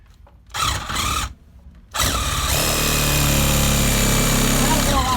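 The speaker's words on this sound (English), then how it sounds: "get yourself a full-out Sawzall and cut through the rest with some" A Sawzall reciprocating saw cuts through plastic: loud buzzing bursts start and stop twice, then one long sustained cut with rough rasping, close and dominant throughout.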